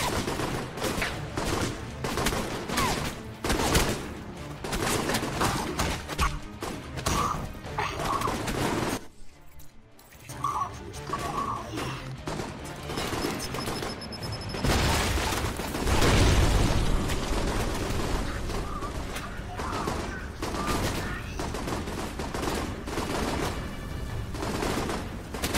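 Gunfire rattles in the video game Alpha Protocol, with dense rapid shots and bursts layered over game sounds, easing briefly for a moment before the shooting picks up again loud and continuous.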